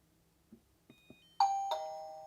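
A CEYOMUR R10 wireless video doorbell's plug-in chime, just paired, gives a couple of faint clicks and short beeps, then two bright ding-dong tones whose ringing decays slowly in a quiet room.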